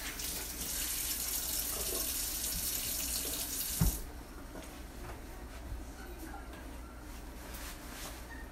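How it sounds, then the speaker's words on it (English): Water pours steadily from a kitchen tap during hand washing while cooking a cheeseburger sub, a loud broadband rush for about four seconds that cuts off abruptly, leaving quieter room noise. "Wash my hands a little bit."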